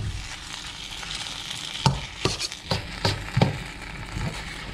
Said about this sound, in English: let this simmer for like 5 or 6 minutes